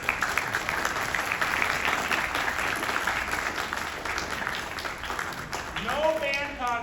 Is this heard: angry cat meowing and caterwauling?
no